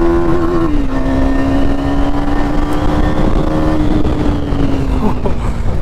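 A car engine pulls hard in second gear on a mountain road near Gulmarg, a loud droning tone that dips at a gear change and then rises steadily, heard from inside the cabin.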